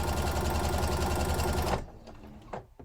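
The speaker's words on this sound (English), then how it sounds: "I'm going to stitch a couple of times just to make sure it's nice and secure here." A sewing machine stitching thrifted scarf fabric runs with a steady, fast mechanical whir for almost two seconds, then stops, leaving faint handling clicks and rustles.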